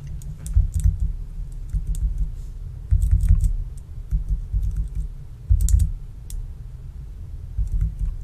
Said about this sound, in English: I'm just using the arrow keys to kind of glide back and forth.